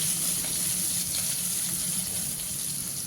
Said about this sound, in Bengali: এবারে দিয়ে দিচ্ছি থেতো করা রসুন।